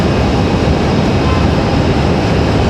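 A dense, steady roar from an Air France airliner on final approach at Raleigh Durham International Airport, loud and unbroken throughout with broadband rumble and no voices.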